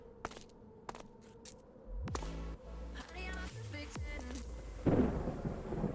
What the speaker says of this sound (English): It is a thunderstorm.